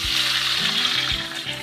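Mushrooms dropping into a pan of browned onions, frying for a matar mushroom curry; a steady, close sizzle with a soft clatter as they land, lasting under two seconds.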